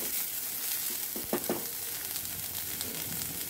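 Corn kernels fry in a pan for a corn bhel, making a constant soft sizzle with a few faint crackles and stirring clicks mixed in, close and fairly quiet throughout.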